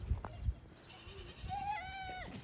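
A Nigerian dwarf goat doe gives a long, wavering bleat close by, preceded by a couple of soft knocks and a shorter call.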